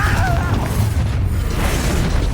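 Confringo explosive spell in Hogwarts Legacy, a loud, dense burst of crackling, booming energy that fills the whole short moment without pause.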